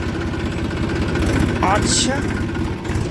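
A tractor engine runs steadily at dusk on a farm, a low continuous rumble with a throbbing beat that carries through the whole stretch while someone talks over it.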